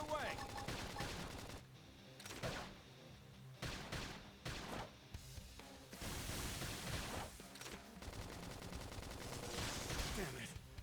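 Rapid gunfire in a Xenoblade Chronicles X battle against insect enemies, loud bursts of shots and impacts in quick volleys with brief gaps, mixed with combat effects.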